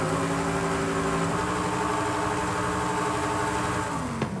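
A video game car engine on stock cams holds a steady, loud, close drone near idle, with a short click at the very end.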